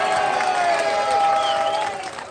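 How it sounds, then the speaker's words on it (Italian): Audience applause rings out at an Italian live show, a dense, steady wash of clapping and crowd noise that holds evenly, then eases slightly toward the end. "Forza l'applauso!"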